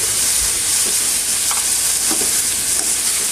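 Meat fries in a pan with a loud, close, continuous sizzle and faint stirring scrapes, with no talking.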